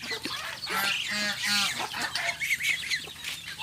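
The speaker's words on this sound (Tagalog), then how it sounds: "manok" Several chickens clucking and squawking in quick, overlapping bursts, fairly close, with a steady farmyard background.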